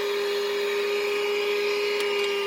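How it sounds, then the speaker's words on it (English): A vacuum cleaner runs inside a car interior, a loud steady motor whine with a constant tone, close and unbroken, no voices. "I vacuum all the interior, including the seats"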